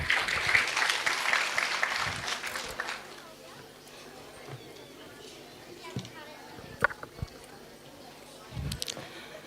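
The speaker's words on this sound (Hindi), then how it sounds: "ऐसी महिलाओं का आप जोरदार तालियों के साथ स्वागत करें।" Audience clapping at a regional community society gathering in Bhopal, a burst of applause at the start that quickly thins and dies away, leaving a quieter room with scattered knocks and movement.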